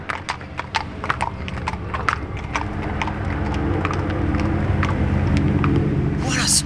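Horse hooves clip-clop in a steady walking rhythm at close range over a low rumbling background, with faint voices nearby.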